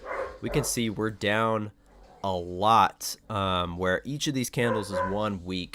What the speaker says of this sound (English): Sorry about my dogs going crazy in the background.